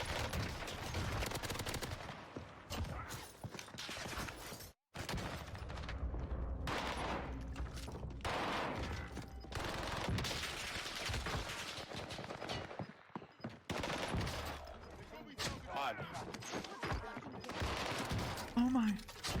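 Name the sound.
gunfight gunfire in Call of Duty Warzone Pacific video game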